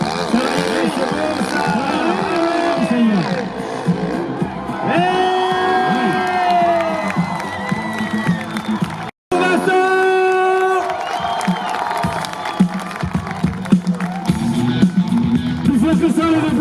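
Spectators at the Montée Impossible hill climb in La Bresse cheer, whoop and applaud in loud bursts, with a brief cutout midway before the crowd noise swells again.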